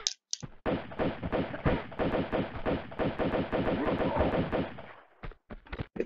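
Rapid pistol gunfire from the video game Tomb Raider 2 in the Opera House level, a dense, continuous stream of sharp shots lasting about four seconds, loud and close, with a few isolated shots before and after.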